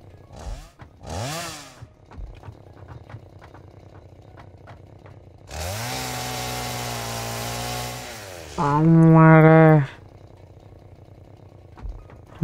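A chainsaw in Satisfactory cuts down trees, giving a steady buzzing drone for a few seconds, then a shorter, louder high-pitched whine, with no talk over it.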